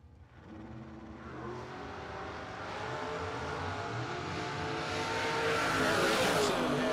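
Drag race cars launching side by side down a strip, one of them a Camaro Roadster in the right lane, at a Christmas Bash drag event; a steady, building engine roar swells louder over seven seconds with no voices.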